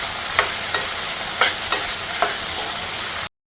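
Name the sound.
frying tomatoes with tamarind and salt in a pan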